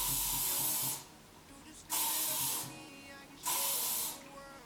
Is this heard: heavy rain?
no